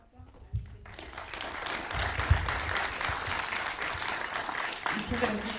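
An audience at a university talk on metallic coatings breaks into applause for the speaker, a dense, steady wash of clapping that swells after a quiet start, with voices mixed in beneath it.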